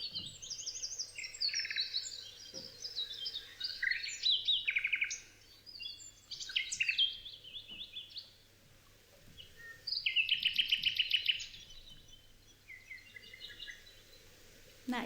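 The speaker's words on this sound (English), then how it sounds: "A Nightingale and Canary Bird Sounds" A nightingale and a canary sing in bright, rapid bursts of trills, whistles and chirps, clear and close, separated by short quiet gaps over a low steady hum.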